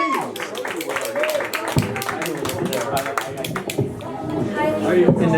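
A crowd at a holiday open mic in Waco gives guitarist Devin a round of applause with brisk, close clapping that runs steadily for the whole stretch, with scattered voices mixed in.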